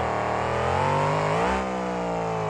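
A monster truck engine screams at full throttle in a speedway competition, a loud rising harmonic roar that climbs, peaks and then eases slightly, close and without talk over it.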